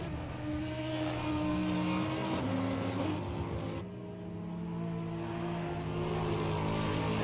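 Audi R8 LMS GT3 Evo with a 10-cylinder engine in a racing video game at the Hungaroring, droning steadily at high revs with shifting harmonics and a brief dip near the middle, loud and continuous throughout.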